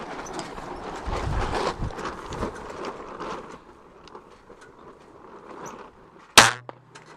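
A Sen-X Onyx tactical crossbow powered by Steambow fires an arrow, a single sharp, loud snap with a brief twang near the end, preceded by indistinct background noise.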